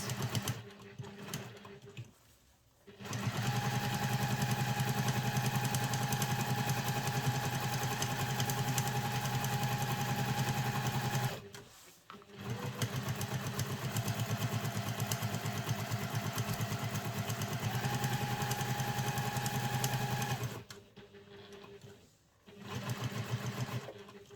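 A sewing machine running long basting stitches near the edge of a travel satchel's binding, a loud steady mechanical whirr in long sustained runs broken by brief pauses.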